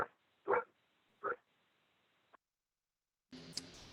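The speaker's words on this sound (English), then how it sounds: "the dogs are barking" Dogs bark in the background during an online climate subcommittee meeting: two short, fairly loud barks about a second apart, then a faint yelp and a brief noisier burst near the end.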